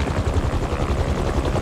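Helicopter rotor blades in the Spider-Man 2 video game, a steady low rhythmic thumping pulse that holds loud and continuous throughout.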